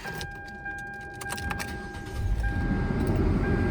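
A 2015 Hyundai Elantra starts up with a faint jingle of keys and a soft crank, then the engine settles into a steady, low, close idle for the last second or so.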